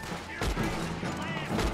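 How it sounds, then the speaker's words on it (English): Gunfire in Red Dead Redemption 2: several sharp shots crack out in quick bursts at about 0.4 and 1.6 seconds, loud and close, over a constant game background rumble. "Who's shooting me?"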